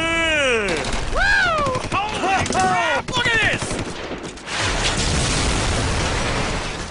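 Video-game gunfire in rapid bursts mixes with excited, pitch-swooping voices early on, then sustained loud automatic fire and rattling shots fill the rest.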